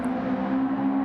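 Steady car engine drone in Gran Turismo 7 while drifting sideways, a sustained mid-pitched hum with little variation, loud and continuous for about a second.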